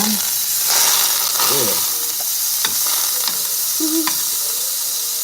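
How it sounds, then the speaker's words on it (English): Butter sizzles and hisses loudly in a frying pan, close and continuous, with a few soft scrapes and brief faint voices. "Put that butter in the pan."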